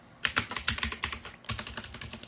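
Rapid typing on a computer keyboard at a PC, a close, steady run of crisp key clicks with a brief pause midway, no voices.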